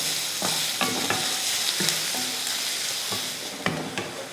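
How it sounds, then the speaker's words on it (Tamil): Onions sauté in oil until golden brown, a constant close sizzle with repeated sharp spatula scrapes and taps against the pan, no voices. "வெங்காயத்தை நல்லா வதக்கிக்கலாம்"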